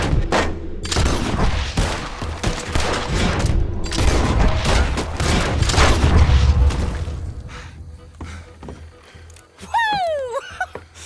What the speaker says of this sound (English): That boy's gonna get on the Gatling gun.